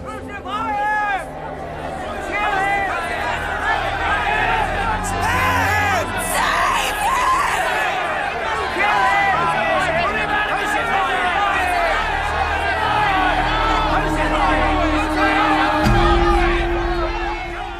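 A crowd shouting for Jesus to be crucified, a loud sustained mass of yelling and screaming voices with chanting rising and falling throughout.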